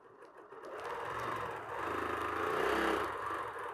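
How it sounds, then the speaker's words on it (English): Domestic sewing machine, a BERNINA in a quilting studio, stitching across a seam on an autumn wall hanging quilt, running as a steady mechanical whir with a faint clatter for several seconds, moderately loud and close, with no talking. "Go ahead and keep stitching across."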